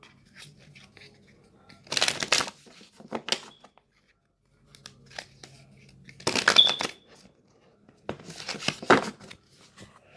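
A Moonology Oracle deck is shuffled by hand, three soft riffling bursts of cards with quiet handling between them and no talking.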